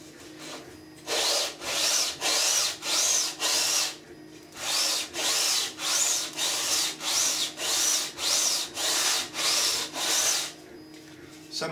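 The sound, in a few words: sanding the edge of an ABS part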